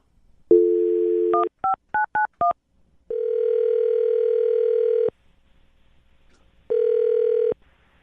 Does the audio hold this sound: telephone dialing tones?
yes